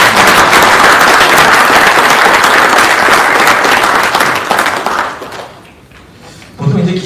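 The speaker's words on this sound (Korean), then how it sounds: "격려의 박수를 좀" A seated audience at the Seoul Security Forum gives loud, dense applause of encouragement that holds steady for about five seconds, then fades out, with a short low sound at the very end.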